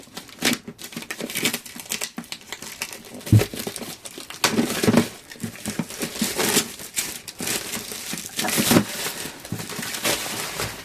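A Craftelier craft-supply parcel is unpacked by hand: plastic and paper packaging crinkles and rustles in bursts, with occasional tearing snaps, close and fairly loud throughout, no talking.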